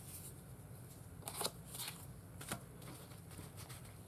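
A stack of playing cards is handled and riffled, soft papery flicks and brief rustling bursts, quiet and close, with a few louder shuffles near the middle.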